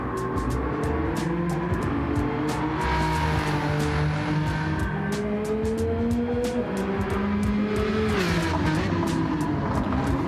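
The Jaguar XJ220 race car in Gran Turismo 7 roars at sustained high revs with shifting engine pitch and regular sharp gearshift or backfire clicks, loud and continuous throughout.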